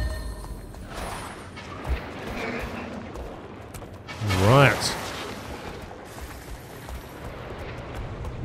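A heavy cannon boom in Guild Wars 2 with a rumbling tail sounds once midway, over faint background noise and a quieter thump earlier.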